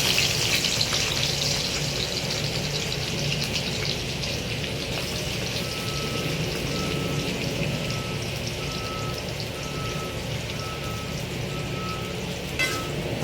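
Sliced onions deep fry in hot oil with cinnamon and cloves for a chicken dish, giving a steady, even crackling hiss throughout. A faint intermittent electronic beep pulses for several seconds midway.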